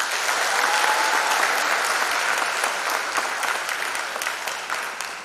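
A graduation crowd applauds the class of 2021 with steady, dense clapping that fills the whole stretch, loud and close, fading slightly at the end.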